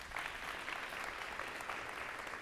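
An audience applauding at a school district's State of Our Schools event, a steady, even wash of clapping from many hands, fairly distant and soft, with no voices over it.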